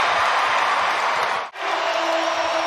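A basketball arena crowd at an Indiana Pacers versus Detroit Pistons NBA game roars with sustained cheering and applause, a dense wash of noise that briefly dips at one point before continuing.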